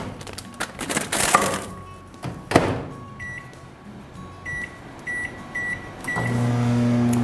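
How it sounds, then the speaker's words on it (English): A microwave oven running with a frozen steam-fresh vegetable bag inside: a steady hum with a crack near the start and a series of beeps before the running tone resumes, close and fairly quiet. "you can pop it right into the microwave."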